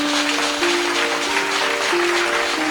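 A church congregation claps continuously in a dense, loud wash of applause, with a sustained organ or keyboard tone held underneath.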